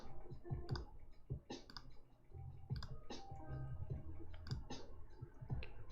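A computer keyboard used during a photo-editing session clicks in quick irregular bursts of keystrokes, close and fairly loud, with a steady room hum underneath and no voices.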